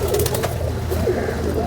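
A pearl pigeon coos close by, soft low repeated rolling calls over a steady background hum, with no talk.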